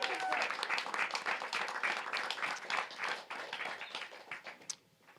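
A comedy club audience claps and applauds for a comedian, close and dense with scattered cheers, then tapers off in the final second.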